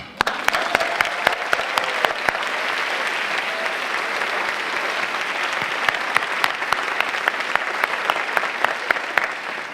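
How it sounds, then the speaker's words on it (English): Thundering applause from a large audience of students and families at a university convocation: dense, sustained clapping fills the hall at full volume for nearly ten seconds, with sharp individual claps popping out of the roar. "Please give yourselves a thundering applause."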